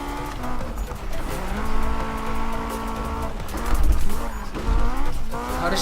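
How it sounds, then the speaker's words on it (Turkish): Engine of a car in Need for Speed 2015, driven with a Logitech G27 wheel, revving up and down in steady rising and falling pitch sweeps, with brief louder surges and some tire squeal, no talk. "Az bir susayım birazcık da motor dinleyin"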